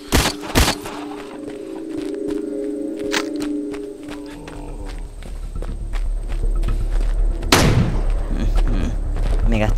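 Gunfire in the zombie shooter game Into the Dead 2, a few sharp cracks scattered among footsteps, thuds and other game effects, loud and close.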